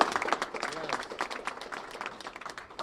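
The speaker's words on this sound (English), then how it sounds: "a well-deserved round of applause" Crowd applause with clapping and cheering at a live event, dense and continuous throughout, mixed with voices.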